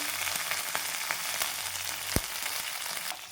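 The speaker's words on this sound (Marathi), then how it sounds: "तेल आहे ना आपलं गरम झालेलं आहे आणि राई फुली करायची आपल्याला आणि थोडंसं कढीपत्ता आणि हिरवी मिरची त्याच्यानंतर लसूण" Mustard seeds, curry leaves, green chilli and garlic crackle and sizzle in hot oil, a steady close frying hiss broken by a few sharp pops and spatters.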